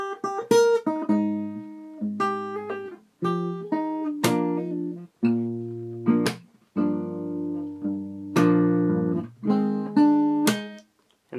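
D: Fingerstyle acoustic guitar plays the ending of a song, plucked chords ringing and fading in a slow, repeating pattern, close and clear with no voices.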